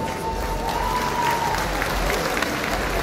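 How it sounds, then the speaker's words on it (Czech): An audience applauds a trampoline performance at a ball in Liberec, with a full, steady round of clapping, crowd murmur and a brief whistled tone near the start. "Děkuji za potlesk"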